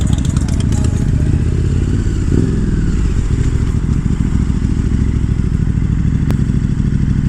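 A 2018 KTM 1290 Super Duke R rides along with its loud, steady engine drone, thumping clatter and wind rush close up, the tone shifting slightly midway.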